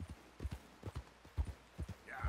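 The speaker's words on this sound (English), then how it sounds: "I'm gonna get my horse, I guess, right beside his." A horse in the video game Red Dead Redemption 2 clip-clops at a steady walking rhythm, each hoofbeat soft and distinct. A faint brief voice-like sound comes at the very end.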